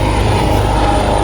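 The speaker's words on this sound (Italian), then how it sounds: "l'elicottero della Costa Crociera" A Coast Guard helicopter flies overhead along the coast near the Oyster Cave, producing a loud, steady engine and rotor drone that holds constant throughout with no talking.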